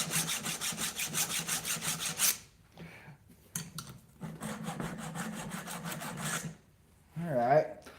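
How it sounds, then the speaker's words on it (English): A hand file rasps rhythmically across a Vevor chainsaw chain, fast even strokes in two bursts separated by brief pauses, close and fairly loud, ending with a short metallic scrape. "sharpening a chainsaw blade"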